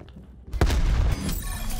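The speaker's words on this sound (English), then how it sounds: "Using flashbang." A flashbang grenade in Black Ops Cold War bursts after a brief quiet, a single sharp loud bang that rings on with a sustained bright tone as it fades.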